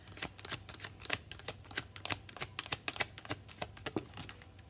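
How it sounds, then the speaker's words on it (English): Tarot cards are shuffled in a rapid run of crisp riffling snaps and flutters, close up and steady for several seconds with no talk. "Not a lot of shuffling there."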